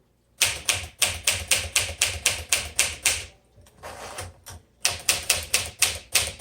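Typing on a 1958 Smith Corona Sterling manual typewriter: rapid, close, loud keystroke bursts in steady runs, a brief pause with a carriage or mechanism sound around the middle, then another quick run of keystrikes.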